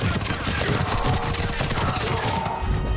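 Rapid submachine-gun fire from the Tempest SMG in the video game Mass Effect 3, a dense, continuous stream of loud, closely spaced shots with no pause.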